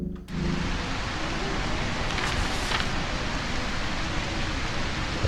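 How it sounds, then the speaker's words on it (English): Steady, heavy rain in the video game A Quiet Place, a dense continuous hiss after a brief quiet start, heard alone without voices. "the rain's doing a good job of muffling our noise level right now"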